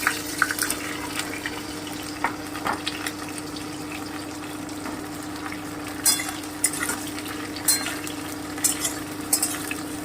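Ridge gourd (jhinge) frying in a pan with green chillies, a steady low crackle and sizzle broken by scattered stirring clinks and scrapes, fairly close and moderate in level with no talk.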